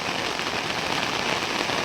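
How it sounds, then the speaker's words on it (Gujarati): Heavy unseasonal rain pours down in a dense, even roar of drops on surfaces, loud and continuous with no voices. "વરસાદ તો એટલો ભયાનક પડી રહ્યો છે અત્યારે"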